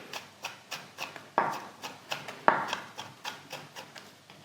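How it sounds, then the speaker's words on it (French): A sharp kitchen knife finely chops vegan salad ingredients on a board in a quick steady rhythm of about a dozen close, crisp strikes, two of them louder than the rest. "un bon couteau qui coupe, qui vous permet après de venir hacher vos ingrédients finement"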